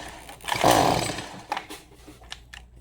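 A Stihl MS 180 C chainsaw running on old fuel being pull-started, a rasping surge from the cord pull followed by a couple of short, sputtering bursts that fail to catch.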